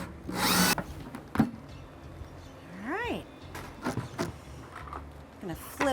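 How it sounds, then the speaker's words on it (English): A handheld power drill whirs briefly against the bottom of a plastic 5-gallon bucket, short close bursts separated by gaps, with a person talking in between. "So I've got my drill here. I'm just gonna center it on the bottom of our 5-gallon bucket."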